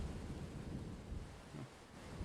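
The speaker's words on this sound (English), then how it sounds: "this seems like a pretty severe storm" A low, steady rumble of a severe thunderstorm with wind and rain in a weather survival game, continuous and fairly faint throughout.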